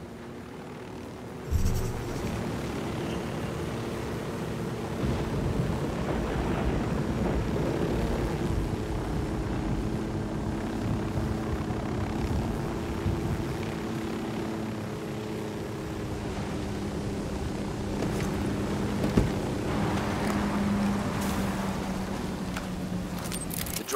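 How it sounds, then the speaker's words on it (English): A surveillance drone in the video game Ghost Recon Wildlands hums steadily after a sharp start, a continuous droning whir with a faint tonal whine that holds level throughout, with one brief click partway through. "Drone is up."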